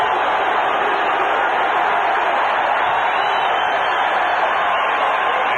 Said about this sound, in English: This crowd is back into it.